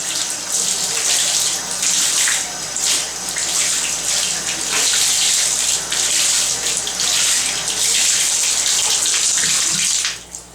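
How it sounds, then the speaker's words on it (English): Water gushes steadily into a bathtub as it is rinsed out during bathroom cleaning, a loud, continuous hissing splash lasting about ten seconds before cutting off abruptly at the end, with no talking. "So I just go in the tub, put that underneath it, and rinse the whole thing."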